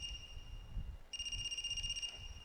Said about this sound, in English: Hey, do you hear something? A cell phone?